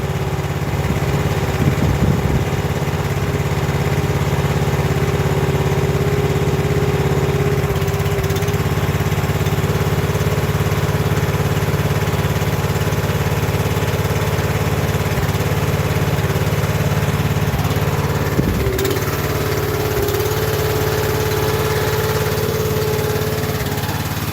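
Steady, loud engine drone from a John Deere 2250 tractor running with its hydraulics engaged, a continuous low hum that holds for the whole stretch with only a brief shift near the end.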